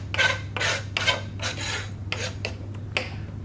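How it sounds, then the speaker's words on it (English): A knife trims the top off a melon in a school food-preparation lesson, giving about eight rasping strokes, each a short separate scrape through the rind. The strokes are close and fairly loud over a steady low hum, with no talking. "Here's my melon. I'm just going to trim it a little bit, take off the top"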